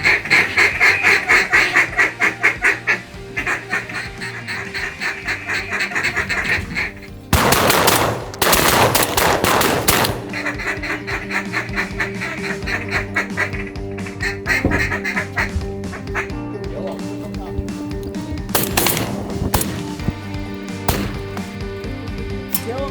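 Ducks quack steadily through a windy duck hunt in hard south wind, broken by several loud shotgun blasts, some in quick clusters, with occasional faint voices in the background.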